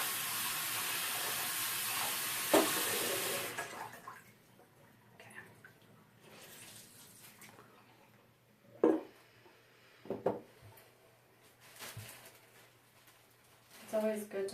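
Tap water runs steadily and loudly while ostomy pouch parts are rinsed, then the flow stops, leaving quieter handling sounds and a few clunks.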